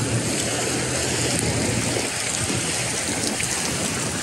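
Steady rain pours down outdoors on a Milan street, a dense, continuous hiss of drops on pavement at constant loudness throughout.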